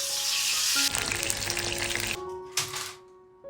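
Wild mushrooms crisp-frying in hot oil, heard as a bright close sizzle in short choppy bursts that cut in and out, then fade to quieter spells.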